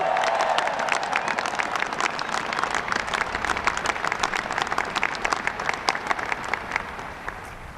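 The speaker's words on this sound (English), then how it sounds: "Give them a big round of applause." An audience gives sustained applause at an Air Force Academy ceremony, dense clapping that is strong at first and then thins out over several seconds.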